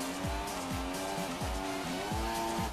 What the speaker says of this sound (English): No, we're still in a wall. I can tell by the sound, but it's revving it in the wall.